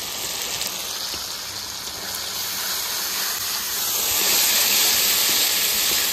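Ginger, cumin, garlic, dried chili, pepper, turmeric and salt sizzle in a hot pan for a village duck curry, a steady close hiss that swells louder toward the end, no talking.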